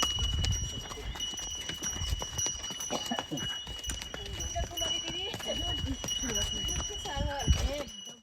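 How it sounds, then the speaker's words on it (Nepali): A horse being ridden clip-clops along with irregular hoof strikes at close range, under steady talking and background voices. "घोडामा सवारी"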